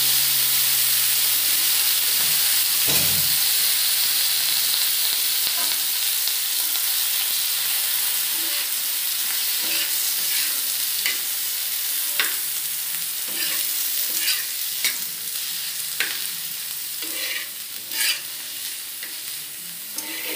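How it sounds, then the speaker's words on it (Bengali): Onion and carrot fry in hot oil left over from frying peanuts, giving a loud, dense, continuous sizzle and hiss close by, with occasional stirring clatters toward the end. "এরপর যে তেলটা গরম ছিল, বাদাম ভাজার পর যে তেলটা ছিল সেই তেলটার মধ্যেই এই পেঁয়াজটা আর গাজরটা আমি দিয়ে দেবো।"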